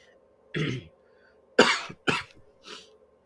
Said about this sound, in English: Sorry, just had a bit of a cough.